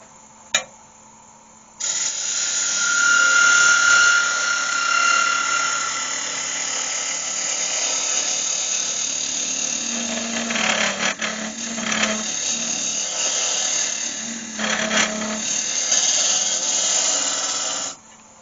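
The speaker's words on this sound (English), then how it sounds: "now what I'm just going to do is go with my half round chisel and just clean it all up" A half round chisel scrapes steadily into a spinning cherry wood pen pot on a lathe, giving a continuous close hiss and whir with a few brief harsher bites as the cut deepens.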